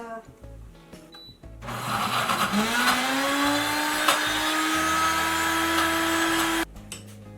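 An Ace Plus blender blending chunky bean dip, the motor roaring up with a rising whine that settles into a steady high drone for several seconds before cutting off abruptly, with quieter handling noises before and after.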